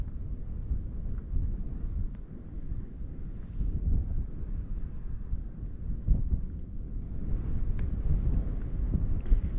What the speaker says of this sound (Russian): Ветер как дул, так и дует.